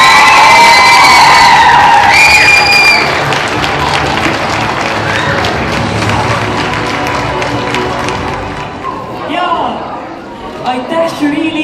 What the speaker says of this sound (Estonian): Teeme kõigile toetajatele ühe suure aplausi.